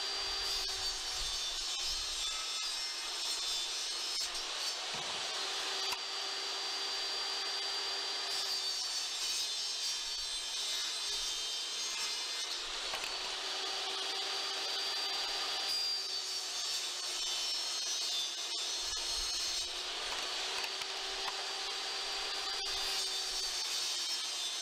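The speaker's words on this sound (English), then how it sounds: "which is cutting the planks" Wood planks cut from 1/4 inch lauan sheets for a herringbone accent wall: a steady, continuous saw whine with rasping wood noise, holding constant at moderate level with a few brief dips, no talking.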